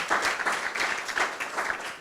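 An audience at a climate and health talk claps in a steady round of applause, dense and fairly loud throughout, with no voices over it.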